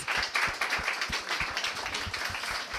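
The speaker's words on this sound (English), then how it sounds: "Round of applause for our panellists." An audience at a live panel talk in a Liverpool club gives the panellists a brief, fairly quiet round of applause, individual hand claps distinct in the room.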